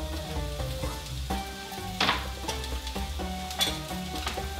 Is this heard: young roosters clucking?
no